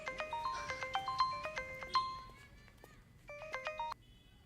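A telephone's melodic ringtone plays repeated quick tone patterns, pauses briefly, then starts again, fairly clear against a quiet room.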